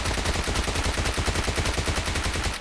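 PP-Bizon submachine gun in the PUBG video game fires a rapid continuous burst, loud and close, an even stream of shots with no pause and no talk.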